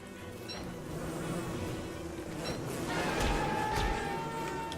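A swarm of killer bees in the video game Don't Starve gives off a dense, continuous buzzing with a few higher whining tones, holding steady at moderate loudness for several seconds.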